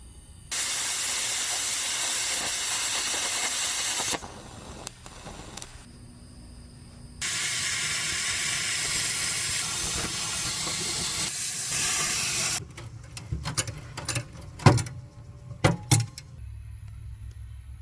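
MIG welding a patch panel on a project car, two long bursts of harsh crackling hiss separated by pauses, followed by scattered metallic clanks and taps close by.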